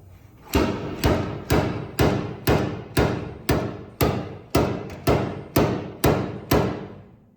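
A hammer pounds dents out of a damaged truck body: about a dozen loud, evenly spaced metallic blows, each ringing briefly before the next, close-up and with no talk.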